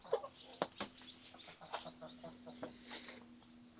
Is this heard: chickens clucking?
yes